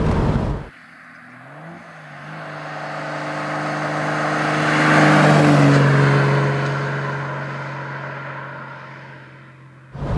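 A 1955 Bristol 404 sports car pulls hard through closely stacked second, third and fourth gears, its engine note rising in pitch and swelling to a loud peak before fading, heard from the cabin without talk.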